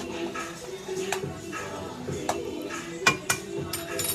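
A lid clatters onto a pan of pork steak and caramelized onions, with a few light metallic knocks and clinks over a soft background sizzle.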